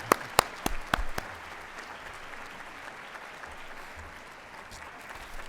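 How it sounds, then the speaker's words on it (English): A few sharp, close individual claps open the moment, then a softer, diffuse spatter of audience clapping continues at low level through a conference opening session. "Now we can clap"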